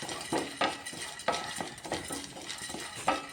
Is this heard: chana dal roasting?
yes